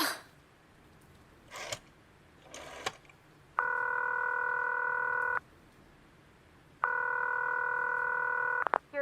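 Rotary telephone dialing in a radio play, a few brief whirring dial clicks, then two bursts of a steady, loud busy signal tone, each lasting a couple of seconds with a short gap, ending with a click.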